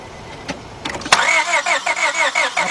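A 2002 Honda Accord 2.3 engine that cranks but will not start: after a few clicks, the starter turns it over in a loud, rapid, rhythmic whirring churn that never catches.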